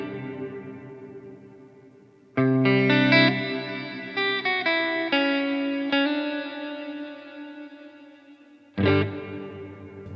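Electric guitar played through a Line 6 POD Go with reverb, struck chords ringing out and decaying into a long reverb tail, then a final sharp strum near the end; no talking.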